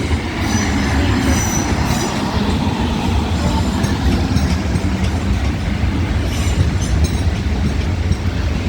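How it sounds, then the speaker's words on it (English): An electric passenger train, a South Western Railway Class 450, rumbles close by at a station platform with steady rolling noise, wheels clattering and faint squeals, the sound holding constant throughout. "So this will be my train taking me back to Winch."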